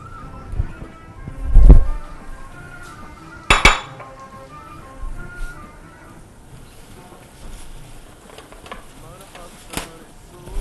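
A plate and dishes clink and knock on a kitchen counter during a chef's frying session, with two sharp, close clatters followed by lighter scattered clinks over a low kitchen background.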